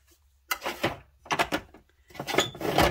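Small drawers are slid open and shut during junk journal crafting, with three short bursts of close, clattery wooden rattling separated by silence.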